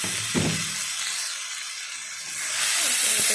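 Hyacinth bean seeds and peas tip into a hot pan with eggplant for a fish curry, setting off a loud, steady hiss of sizzling that swells toward the end, with no talking.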